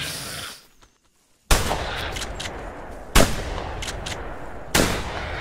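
A shotgun fires in The Hunter Primal during a fight with a demon raptor: three sharp, loud blasts spaced about a second and a half apart, each trailing into a noisy outdoor rumble.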